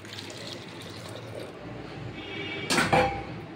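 Water splashes into a pot of boiled chana dal in a short, loud, close burst near the end, after a stretch of quiet kitchen background.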